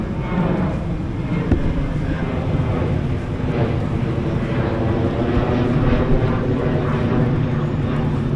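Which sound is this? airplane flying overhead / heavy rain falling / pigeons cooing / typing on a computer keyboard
airplane flying overhead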